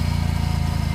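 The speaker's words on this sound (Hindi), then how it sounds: "आज ओनली एग्जॉस्ट साउंड का हम लोग टेस्ट कर रहे हैं अभी।" An Aprilia RS 457 motorcycle's exhaust burbles at a steady idle, a close, loud, even low-pitched thrum with a regular pulsing rhythm and no talking over it, recorded outdoors on a cold day.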